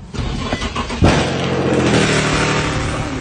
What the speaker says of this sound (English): I don't know why they keep giving me tickets for this car, bro. And it's not even that loud.